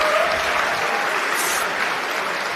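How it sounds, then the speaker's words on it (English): An audience at a conference event applauds contestants, dense steady clapping filling the room at close range, sustained evenly without voices standing out. "Round of applause for the contestants."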